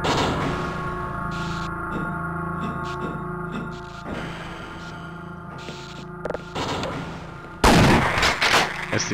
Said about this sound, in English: one shotgun blast and he's dead.